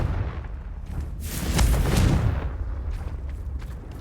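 In Hogwarts Legacy, a Confringo fire spell is cast at a chest: one loud, rumbling explosion swells at the middle of the clip and fades into low crackling game ambience.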